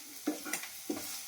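Potatoes fried in a pan with only salt sizzle softly while a spatula scrapes through them twice, close and quiet, with no voices.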